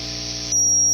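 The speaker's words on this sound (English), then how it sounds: "Yeah, the hiss is coming on." Steady electrical hiss with a low hum from a Triwatt guitar amplifier, swelling noticeably louder halfway through as the amplifier is turned up, with no playing or talk.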